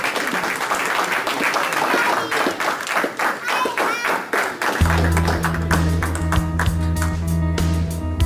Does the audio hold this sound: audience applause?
yes